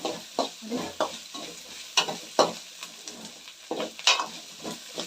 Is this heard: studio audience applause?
no